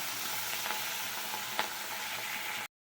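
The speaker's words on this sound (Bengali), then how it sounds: "মাছটা ভেজে নিচ্ছি আমি আগে।" Prawns fry in hot oil in a kadai, giving a close, even sizzle with a few sharp spatters and one louder pop before the sound cuts off abruptly.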